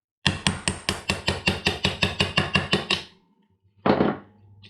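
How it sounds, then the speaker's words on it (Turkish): Rapid, steady metallic hammer taps on a Derya Arms DY9 pistol part, about a dozen in a row at an even rhythm, close up, followed by a pause and one more heavier strike. "Bunu şöyle çekiç kullanacağız"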